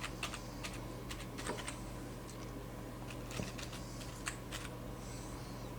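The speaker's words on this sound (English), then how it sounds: "let us type h2 here, or let us type h3 here." Steady close typing on a computer keyboard, a continuous patter of light key clicks with occasional sharper taps, with no talk over it.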